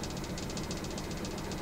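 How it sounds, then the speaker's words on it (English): An RV's onboard generator runs steadily nearby, a constant droning engine hum with a faint rhythmic rattle and hiss, fairly quiet and unbroken, with no talking. "that's your generator."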